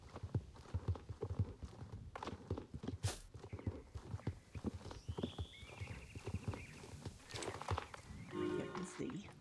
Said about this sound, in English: This must be the horse Maya was talking about.